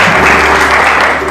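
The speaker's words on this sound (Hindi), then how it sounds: "ताली बजा के प्रभु की महिमा करें" Congregation at a church service clapping hands together in praise, a loud dense burst of applause from many people, sustained and close.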